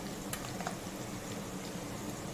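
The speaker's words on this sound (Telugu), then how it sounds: "దోరగా వేగిన ఉల్లిపాయలు" Onions fry to a golden colour in a pan for fish curry, giving a faint, steady sizzling hiss with a couple of tiny ticks.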